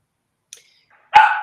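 A puppy gives one short, sharp bark, close and alone, preceded by a tiny faint squeak.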